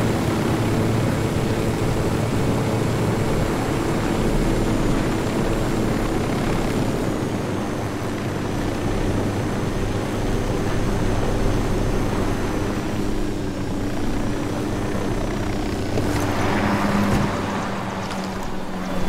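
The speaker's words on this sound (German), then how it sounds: "Drohne fliegt." Drone flying during a mission in the video game Ghost Recon Wildlands, a steady droning buzz with engine-like hum that holds unbroken and fairly loud throughout, with no speech.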